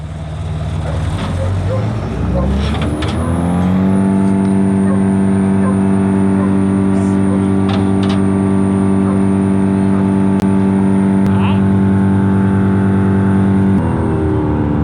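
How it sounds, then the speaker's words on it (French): Greenmech Evo 165 wood chipper running on a work site, engine rising to a loud steady hum with strong even harmonics, near and continuous, with faint voices underneath. "Le broyeur tourne."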